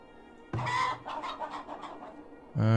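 Chickens cluck in the village-building game Farthest Frontier, a short run of rhythmic clucks and calls following a quiet moment, then a louder, fuller burst at the end.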